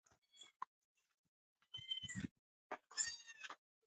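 Several short, high kitten meows, a few isolated ones first, then two longer bursts of mewing close by with quiet gaps between.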